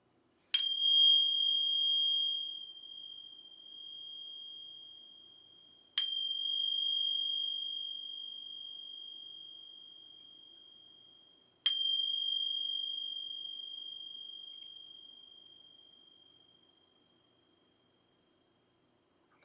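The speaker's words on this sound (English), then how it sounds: "Gonna ring some bells here. They might be a little loud." Three clear bell strikes ring out alone at even intervals, each tone sustaining and slowly fading before the next.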